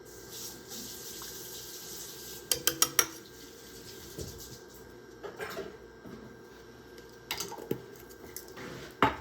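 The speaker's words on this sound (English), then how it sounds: "So now I'm going to mix in some better than bouillon." Spoon clinks and scrapes against a pot while Better Than Bouillon is stirred into homemade chicken noodle soup, in a few short clattering bursts over a quiet kitchen hum.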